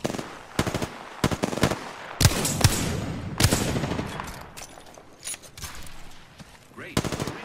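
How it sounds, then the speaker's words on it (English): Automatic gunfire from enemies in a battle royale shooter game, repeated sharp bursts and rapid volleys of shots, loud and close, separated by brief pauses with some trailing echo. "The enemies are shooting at me."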